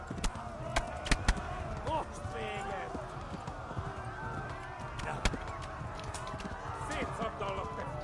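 Horse hooves clip-clop at a steady gallop in the medieval video game Kingdom Come Deliverance, a continuous rhythmic pounding with game ambience and voices running underneath.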